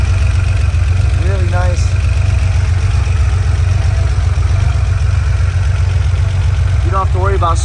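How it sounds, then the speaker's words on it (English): A 1974 Porsche 911 Targa's 930 turbo engine idles, with a steady low mechanical hum running unbroken throughout while a voice briefly speaks over it twice. "this is a true 930 engine turbo"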